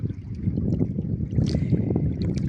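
Motor boat out on the sea, a steady low engine rumble mixed with wind buffeting and water wash, close and continuous with no talk.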